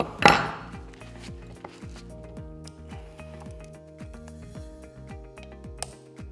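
Small metallic clicks and ratcheting taps come from a chainsaw as its sprocket cover is taken off to expose the clutch, opening with a sharp knock followed by steady rapid ticking of parts being handled up close.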